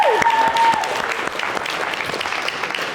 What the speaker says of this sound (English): I love the applause is great.